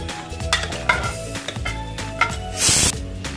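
Gritty scraping and stirring of rock salt into rice and water in a pressure cooker pot for pongal, with steady rhythmic clinks and rustles, close by, and a brief hissy burst near the end.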